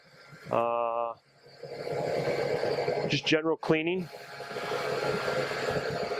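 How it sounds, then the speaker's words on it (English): A steady mechanical hum from an air compressor kicking on in a shop drones on through most of the recording, with a person speaking briefly over it. "You can hear the air compressor kicking on right now."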